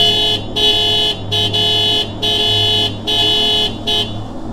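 A car horn honks repeatedly in short and long blasts, loud and close, over a low engine hum, with no one speaking.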